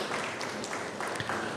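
An audience applauds at a women's football club squad presentation in Andahuaylas, a dense, steady wash of clapping filling the short moment with a few louder claps breaking through.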